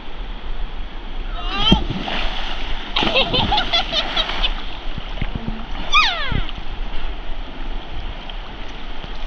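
Boys swimming outdoors at a camp in New South Wales, splashing loudly and repeatedly in the water at close range while children shout and talk over it.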